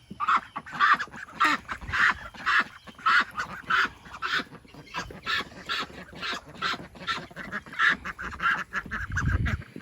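Ducks quacking in their enclosure, a steady run of loud, close, repeated honking calls overlapping throughout, with a low rumble near the end.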